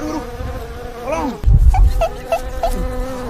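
A swarm of wasps buzzes loudly and close by, a dense drone with rising and falling whines and a few sharp chirping bursts in the second half.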